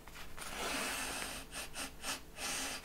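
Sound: sniffing an old paperback book

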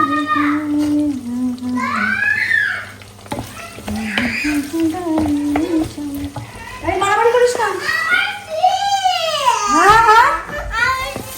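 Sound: frying onion and green chili, stirring in pan

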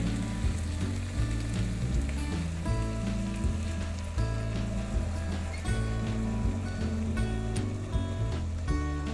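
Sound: broth added to pasta and potatoes, simmering in the pot

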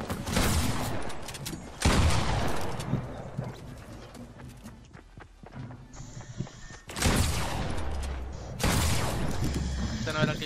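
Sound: gunfire in the video game Fortnite

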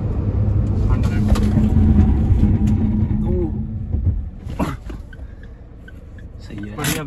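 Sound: Mahindra XUV300 car during brake test at 100 km/h

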